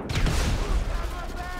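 An explosion sets off a burst of rapid gunfire in GTA V, loud and close, a dense rattling volley that fades slightly over a second and a half.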